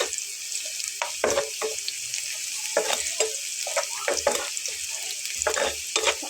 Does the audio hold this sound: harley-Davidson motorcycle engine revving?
no